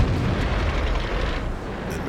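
A tank cannon shot in the World of Tanks game, involving a Chinese heavy tank: a loud, dense, rumbling blast that fills the clip and decays slightly toward the end.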